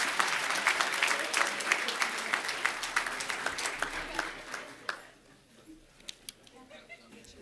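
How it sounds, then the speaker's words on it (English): Applause at a City of Fayetteville service awards ceremony for 15-year recipients: a crowd claps loudly for about five seconds, then the clapping thins to scattered claps with some voices. "Big applause for the 15-year recipients."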